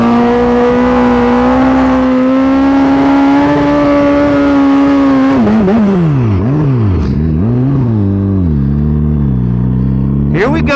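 Turbocharged Hyperbusa motorcycle engine holding a steady high rev, then dropping and blipping up and down in sharp revs, loud and close.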